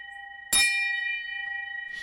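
A single bright bell strike rings out clearly at a rum distillery and its tone hangs and slowly fades, with a faint rustle at the end.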